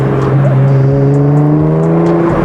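Nissan GT-R R35 with a catless full-bolt-on exhaust, engine note rising and falling through downshifts with loud, continuous droning harmonics and pitch sweeps, close and steady throughout with no talk.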